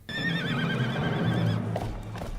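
In the Western video game GUN, a horse gives a long, loud, wavering neigh, followed by heavier hoof and movement noises as the whinny fades.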